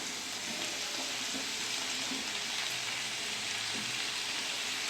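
Chopped capsicum fries in a pan for chili paneer, giving a steady, even sizzle like a close hiss of hot oil that holds constant throughout with no voices.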